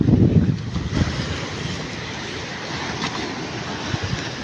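Rough sea surging during a tsunami in Milbuk, Palimbang, Philippines: a steady, roaring wash of churning water mixed with gusty wind buffeting the microphone, loudest at the start and continuing unbroken without talk.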